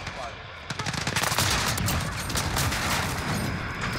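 Rapid bursts of shotgun and automatic gunfire in the Modern Warfare video game, dense overlapping shots cracking loudly through the whole stretch with brief voice interjections.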